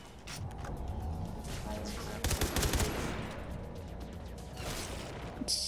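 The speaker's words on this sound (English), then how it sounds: "I hate the shooting in this game" Rapid bursts of automatic gunfire in Far Cry 3 Blood Dragon crackle at moderate distance, with one denser volley midway over a busy game background.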